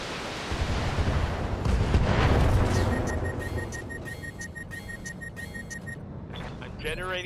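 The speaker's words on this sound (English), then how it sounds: "these explosions are way too common. Second of all, they're way too big" An explosion in the video game RogueTech rumbles up and swells into a deep roar, then fades under electronic beeping game tones and a short burst at the end.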